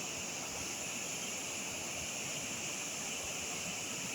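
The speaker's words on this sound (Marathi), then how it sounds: "नदीला पाण्याला फोर्स बघा" Rushing river water roars in a constant, dense wash of noise, close and steady throughout.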